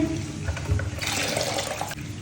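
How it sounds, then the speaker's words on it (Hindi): Water is poured out of a strainer used for washing fish at a sink, a close, steady splash that swells after a brief start and runs for about a second before cutting off. "बाकी इसका पानी गिरा के"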